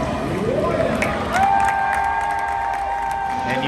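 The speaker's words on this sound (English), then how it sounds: "Each time Lia Thomas was introduced before a race, the audience responded with only a polite applause" Audience applause at an NCAA Division I swimming championship in an indoor pool arena, a steady wash of clapping and crowd noise with a faint tone sweeping across it.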